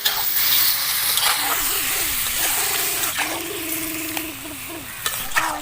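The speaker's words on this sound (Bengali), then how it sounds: "এরপরে আমি সিদ্ধ করা আলুগুলো দিয়ে দেব।" Boiled potatoes are stirred into a spice masala in a pan over a village-style cooking fire for aloo dum, giving a steady close sizzle broken by repeated scraping stirs.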